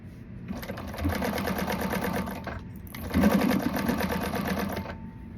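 A domestic sewing machine stitches a zipper placket in two steady bursts of rapid, even whirring, separated by a short pause, with the motor loud and close.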